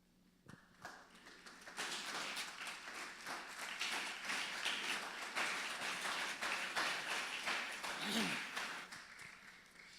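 Sustained applause from a church congregation, beginning after a brief pause and continuing steadily at moderate loudness for several seconds before tapering slightly.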